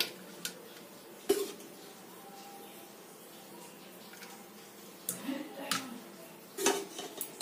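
Metal spoon clinking against a biryani pot as egg curry is added over melted ghee, a few sharp scattered clanks with quiet scraping between them.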